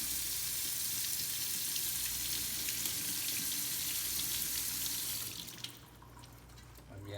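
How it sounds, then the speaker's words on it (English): Cold water runs steadily onto a scored glass bottle for several seconds, a hissing rush that fades out near the end. "You can also apply some cold water now."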